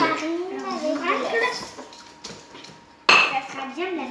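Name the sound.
child stirring chocolate tart batter in a bowl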